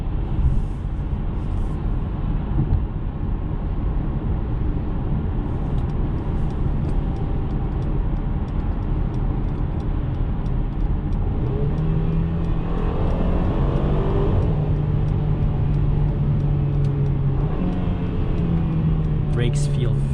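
A 2021 Mercedes-Benz C300 engine pulls steadily under acceleration while driving, a continuous low rumble with tire and road noise, rising in pitch partway through as it gains speed, then shifting down a tone.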